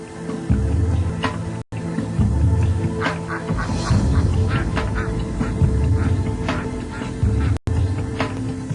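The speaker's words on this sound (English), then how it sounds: "And what is this? A full-grown duck." A full-grown duck quacks again and again at close range, loud and raspy, among lower fowl clucks and honks, with no one speaking.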